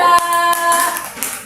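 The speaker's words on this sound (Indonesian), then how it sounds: "tepuk tangan buat kelompok 3" In a first-grade elementary classroom, children clap for group 3, a short burst of sharp hand claps over a sustained tonal hum, close and fairly loud.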